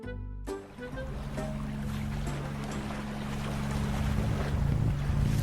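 A ship moving across open sea, with steady wind and water wash rumbling continuously and loudly throughout, along with low droning tones and no voices.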